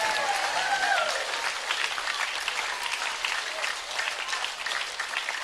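A congregation at a church retreat session claps vigorously in dense, sustained applause, loud and steady throughout with a faint voice briefly over the start.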